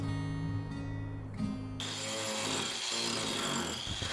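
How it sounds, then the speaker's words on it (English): Power tools cut into wood in the early stages of a carving, producing a loud, continuous motorized whine and buzz with shifting pitch and grinding texture, close and without talk. "I like to use power tools in the early stages because they get rid of a lot of wood fast."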